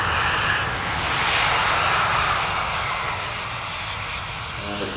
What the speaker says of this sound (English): With Poseidon touching down very shortly after he's cleared the runway